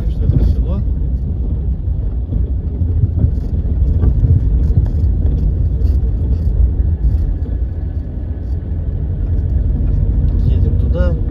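Car interior on a drive to the village of Studenoye in the Ilek district of Orenburg region, a steady low road rumble and engine drone with wind noise running continuously, close and fairly loud.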